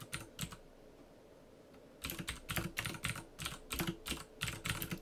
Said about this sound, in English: I'm typing things, but I'm typing things to the chat room